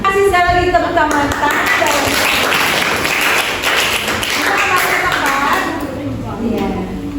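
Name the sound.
audience clapping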